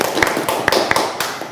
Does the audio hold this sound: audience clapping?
yes